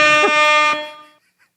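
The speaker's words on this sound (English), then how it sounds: "what we were missing was a rap air horn" A rap-style air horn sound effect blares once, loud and brassy, then cuts off abruptly.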